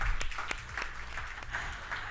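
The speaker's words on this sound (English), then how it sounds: "A round of applause, please." An audience at an award ceremony applauds for a couple of seconds, a fairly distant wash of many hands with a few sharper individual claps and no speech.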